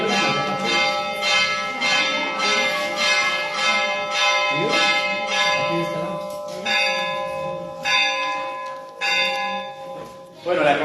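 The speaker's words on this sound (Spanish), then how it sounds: "la campana no nos deja escuchar mucho" A church bell rings loudly and repeatedly with steady strokes and long ringing overtones, continuing for several seconds while voices talk faintly underneath.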